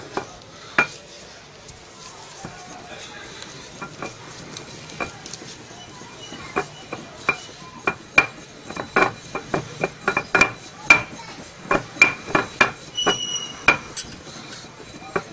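Saffron is ground with a little powder, giving a steady run of sharp scraping and knocking strokes that speed up into a dense rhythmic series, close and fairly loud.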